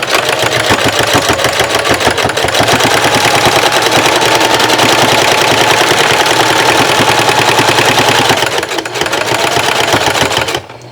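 A sewing machine stitches denim fabric in a grid pattern. Its rapid, loud, close needle clatter runs continuously for about ten seconds, then slows near the end, with no voices.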